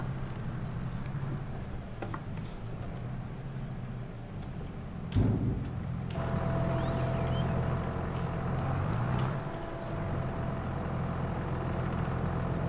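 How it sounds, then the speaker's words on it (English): In Farming Simulator 22, a tractor engine idles with a steady, low rumble that continues throughout, with a brief clunk partway through and no speech. "I'm very happy with my tractor and trailer setup though."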